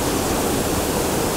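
Rushing water and heavy spray roar near Shōmyō Falls in Toyama, fed by snowmelt, a dense, steady, close wash of noise with no pauses.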